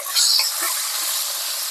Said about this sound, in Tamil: இந்த எண்ணெயிலே சின்ன வெங்காயம் நல்லா வதங்கட்டும்